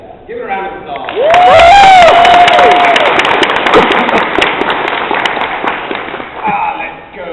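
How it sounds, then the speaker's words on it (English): Audience at a live fan event bursting into loud applause and cheering, dense clapping swelling near and full, with a whoop or shout early on, gradually thinning out. "Give it a round of applause."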